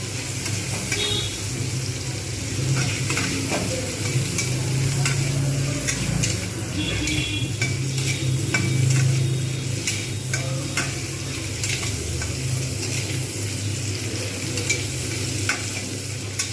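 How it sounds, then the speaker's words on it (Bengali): Mixed fried rice sizzles steadily in a hot pan while being stirred, a continuous frying hiss with scraping stirring strokes running throughout, close and alone without talk. "এরকম করে আমাকে ভালোভাবে নাড়তে হবে।"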